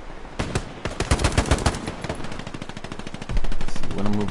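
Rapid bursts of automatic gunfire from the World War II shooter Hell Let Loose, loud and close with repeated rounds, rising to a heavier barrage near the end.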